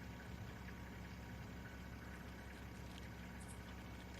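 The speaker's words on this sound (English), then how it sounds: "in case you're hearing that engine rumbling" A safari vehicle's engine idles with a steady low rumble on a game drive at Ngala Private Game Reserve, a continuous faint drone running unchanged through the whole stretch with no voices.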